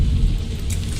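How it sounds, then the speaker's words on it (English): Steady rain falls in the video game Skyrim, a dense, even hiss with a low rumble underneath and no talking over it. "And it's raining now."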